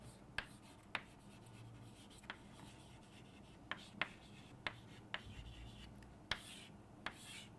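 Faint pen or marker strokes while a definition is written out during a physics lesson, with soft, irregular taps and scratches spaced a second or so apart in a quiet room.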